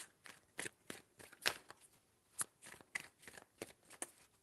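Tarot cards are shuffled by hand close up but quietly, as a string of soft, crisp riffles and slaps in an uneven rhythm with no voice over them.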